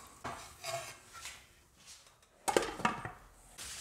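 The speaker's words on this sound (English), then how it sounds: "I'll add this to the pan and we'll cover this and let it cook for about 20 minutes." Metal pots and utensils clatter on a stovetop while jackfruit taco filling is added to a pan and covered, with scattered clinks and knocks and one louder clattering burst partway through.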